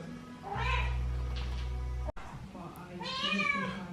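Bengal cat meowing near, a drawn-out low cry followed by a shorter rising meow, with a person speaking softly around it.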